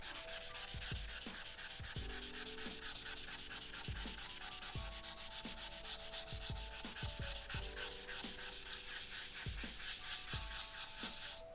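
A rust eraser block scrubs across a whetstone in steady, close back-and-forth rubbing strokes, with sharp knocks and taps between passes and no talking.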